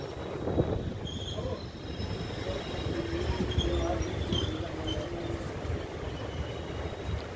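The 15722 Paharia Express pulls out of Bandel Junction with a continuous low rumble of rolling wheels and a faint drawn-out squeal, while a person talks over the steady noise.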